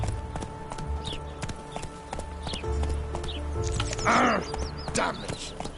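The horse Roach galloping in a video game, rapid rhythmic hoofbeats clopping steadily near and fairly loud, with a brief snort or whinny-like sound partway through.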